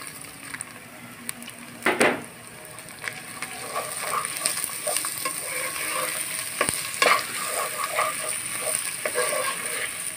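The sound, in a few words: frying rice powder in pan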